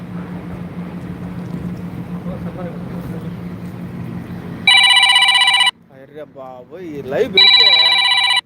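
A telephone rings loud and close in two bursts of electronic trilling, separated by a short pause where someone speaks, after a stretch of low humming background noise.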